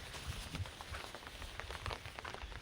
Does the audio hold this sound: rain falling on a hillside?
yes